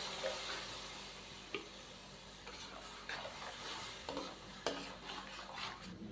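Green chili and tomato paste sizzle steadily in a pan of fish salan, with a few sharp scrapes and clinks of a spoon stirring through the frying mixture, close and moderately loud, with no talking.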